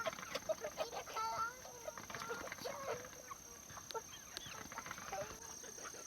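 Farm chickens on a Thai hillside field give scattered clucks and short calls, faint and intermittent over a quiet outdoor backdrop with a constant high-pitched insect drone.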